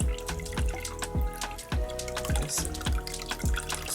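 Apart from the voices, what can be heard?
water running while wetting a wig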